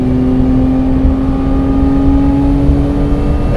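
A modified Porsche 996 Carrera drives with a steady, loud engine drone and a strong tonal hum from inside the cabin, holding an even pitch with no talking.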